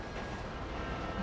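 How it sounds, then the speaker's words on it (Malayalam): A train approaching in GTA 5 Online: a low, steady rumble of rolling rail cars, moderately loud, with no talk. "ട്രെയിൻ വരുന്നുണ്ട്, ഞാൻ പാലത്തേക്ക് നിൽക്കുകയാണ്."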